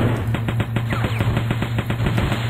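Rapid automatic gunfire from guns in a flash first-person shooter game, a fast even stream of sharp shots repeating about ten times a second over a steady low hum, loud and close.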